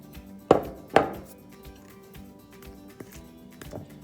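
Flour and baking powder mixed by hand in a bowl for Gambian chopati dough: two sharp knocks early on, then quieter scattered taps and rustling, with no speech.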